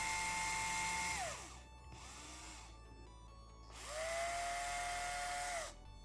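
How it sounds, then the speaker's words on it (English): A small power drill with an axle-diameter bit, slightly off-centre in its chuck, bores JB Weld out of a 1953 Matchbox dumper's die-cast toy wheels, giving two long whining bursts and a shorter one between, close and with no talk. "I'll try drilling that out now."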